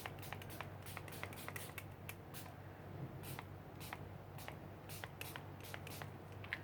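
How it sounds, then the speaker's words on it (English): Short hissing bursts of spray paint onto paper, repeated in quick irregular puffs over a faint steady hum, close and fairly quiet. "I'm just spraying randomly"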